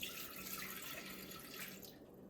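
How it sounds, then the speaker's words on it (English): Water pours steadily into a cooking pot for making churros, a continuous splashing, running stream that fades out near the end. "we get the water and pour it in the pot"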